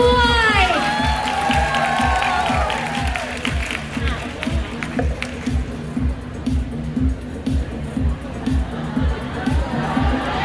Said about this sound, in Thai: ขอเสียงปรบมือต้อนรับผู้บริหารของเรา